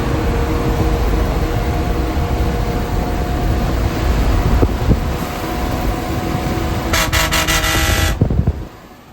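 A vehicle drives along on the road, a loud continuous engine and road roar with a horn sounding briefly near the end before it fades out.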